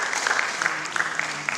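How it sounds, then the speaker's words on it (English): An audience applauds at a university convocation ceremony with a burst of scattered clapping. Sharp individual claps stand out over a hall-like wash of sound for under two seconds. "please clapping, keep clapping."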